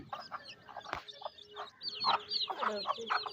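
Hens and young chicks cluck and peep at close range in a farmyard, a busy run of short calls growing denser and louder toward the end.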